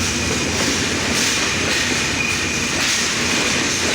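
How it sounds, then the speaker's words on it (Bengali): The Nilsagar Express rumbles loudly and continuously at Natore station's platform at night, with wheels clattering over the rails and a faint squeal through the steady roar, with no voices. "নীলসাগর এক্সপ্রেস ট্রেনটি বর্তমানে নাটোর করলো এক নম্বর প্ল্যাটফর্মে"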